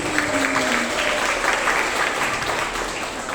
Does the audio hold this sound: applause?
yes